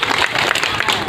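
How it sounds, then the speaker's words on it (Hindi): Crowd clapping at an International Women's Day protest rally, dense, fast applause from many hands close by, steady throughout and cut off abruptly at the end. "आप लोग हाथ उठा के कीजिए, ताली बजा के"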